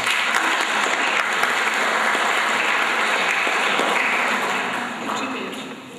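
A large audience applauds at the closing of an animated film festival with sustained, dense clapping that holds steady throughout and then eases slightly near the end.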